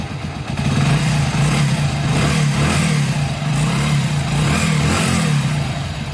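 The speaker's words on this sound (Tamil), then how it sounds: "வண்டி ஸ்டார்ட் பண்ணு, ரேஸ் பண்ணு." Motorcycle engine starting and revving after a mileage adjustment, a loud close rumble with the throttle rising and falling in several revs over a steady idle.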